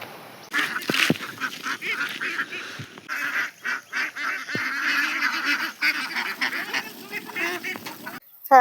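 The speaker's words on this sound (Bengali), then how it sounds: "হাঁস যা দৌড়িছে" Ducks honk and quack repeatedly in a lively, near chorus, with scattered scuffling as they run about outdoors in a Purulia village.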